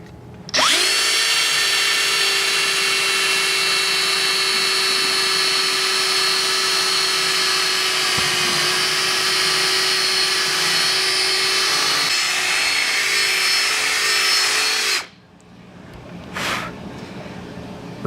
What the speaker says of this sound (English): let's do some more custom milling